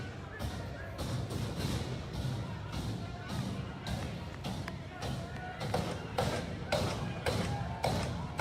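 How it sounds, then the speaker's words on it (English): Tear gas grenades being fired during a 2020 street riot, heard as a series of sharp, distant thumps and pops recurring irregularly over crowd noise and background voices. "That's tear gas grenades."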